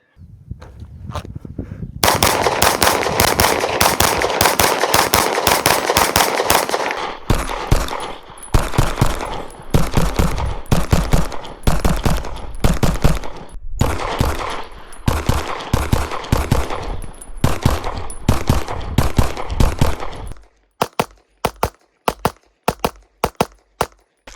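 A Staccato HD P4 pistol, California compliant model, fired over and over on a range, loud sharp shots in rapid strings with brief pauses between volleys, ending in a few slower, spaced single shots.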